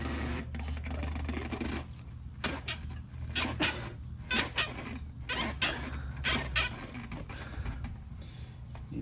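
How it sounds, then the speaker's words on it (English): A Harbor Freight bead breaker works a tire bead off a Honda Pilot wheel, producing repeated creaking, squeaking strains in uneven bursts over a low rumble, fairly close. "then I'm going to use my Harbor Freight bead breaker to open this out"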